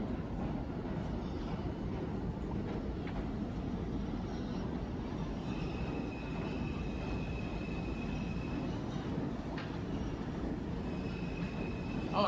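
A subway train in the city-building game Cities: Skylines 2 rumbles past at low volume, a steady rolling drone with faint thin squeals of wheels on track.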